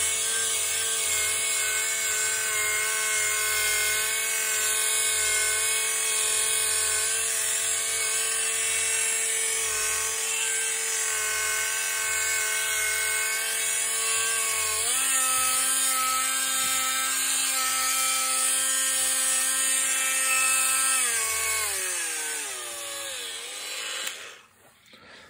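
An SPTA mini polisher runs at speed 4 with a steady high-pitched motor whine and buzz, loud and close for over twenty seconds, dipping in pitch briefly before spinning down at the end, with no speech.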